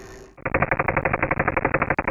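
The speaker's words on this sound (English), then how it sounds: "This is the slowed-down sound produced by this fish." A tiny see-through Danionella cerebrum fish, slowed down, makes a rapid train of sharp, loud clicks, about twenty evenly spaced pulses in two seconds, like a rattling burst of gunfire heard up close.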